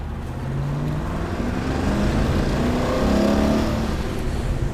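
A red 1960 Chevrolet Corvette's engine runs steadily nearby, a continuous low rumble that swells slightly toward the middle with no voices over it.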